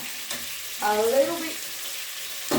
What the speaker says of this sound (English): I'm just going to mix my rice with cooking oil for a little bit.